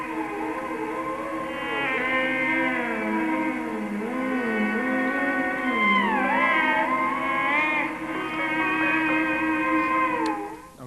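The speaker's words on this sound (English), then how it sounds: "And the reverb loop sounds like this." Electric guitar reverb loop in an ambient looping setup, a continuous washy drone of layered sustained tones with slowly bending, sliding pitches weaving over it, steady and moderately loud throughout.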